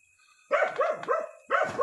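Dogs at a camp in the Siberian taiga give a rapid run of close, loud barks and yelps, pausing briefly before another bark bursts out.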